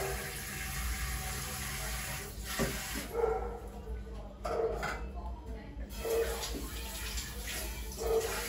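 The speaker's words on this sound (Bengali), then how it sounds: "তো আমি মাংসগুলো ধুয়ে নিই" Raw meat pieces are washed one by one in water, with intermittent splashing and sloshing, a tap-like running water bed and clinks of handling; a voice speaks briefly in the background.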